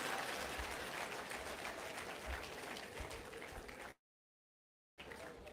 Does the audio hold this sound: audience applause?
yes